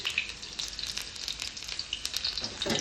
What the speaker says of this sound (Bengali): ঘিয়ের মধ্যে একটু পেঁয়াজ কুচি দিয়ে দিলাম